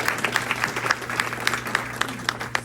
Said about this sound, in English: Let's give ourselves a strong clap for those amazing projects.